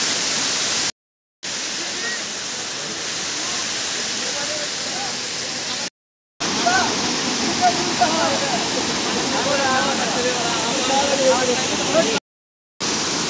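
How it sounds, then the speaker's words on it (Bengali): Sita Falls waterfall in Jharkhand, a steady broadband rush of falling water heard up close and loud, cut by brief silent gaps. "এই সীতা ফলসের ঝর্ণা এটা দেখতে পাচ্ছেন আপনারা"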